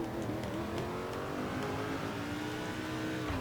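Race car engine in the video game NASCAR 2005 holds a high, sustained whine that climbs steadily in pitch as it revs back up after a downshift, loud and continuous with no talk.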